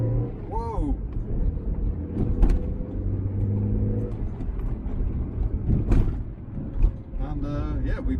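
A Triumph Mayflower car is driven and accelerated on the road, its engine note rising and falling close by while someone talks over it.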